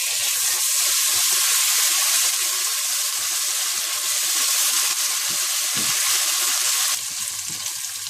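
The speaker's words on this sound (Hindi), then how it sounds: "आप इसमें अदरक लहसुन का पेस्ट डाल दें और इसे थोड़ा सा भून लें" Ginger garlic paste sizzles and fries with golden onions in a pan, giving a steady, loud broadband crackle and hiss throughout, with scattered pops and faint stirring, easing slightly near the end.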